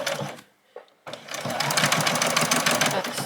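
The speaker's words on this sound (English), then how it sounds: "I'm just going to come in and stitch this all the way down" A sewing machine runs steadily and close by, stitching a fabric bag strap in one long continuous run after a brief start and pause, with a short back stitch near the beginning.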